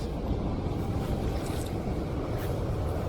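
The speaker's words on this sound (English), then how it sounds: "Again, that noise you can hear is a train." A steady low rumble with broadband roar fills the whole stretch as a train rolls past at a moderate distance near the River Medway, with faint wind noise over it.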